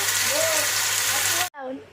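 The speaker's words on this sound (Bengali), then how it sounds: "এখানে যে মাছ ভাজা চলছে" Loud, continuous hissing sizzle of fish frying in oil close by, with a brief voice over it, cutting off abruptly near the end.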